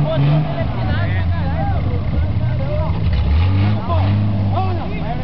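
A small motor runs steadily nearby with a low continuous hum, under loud talk from several people outdoors.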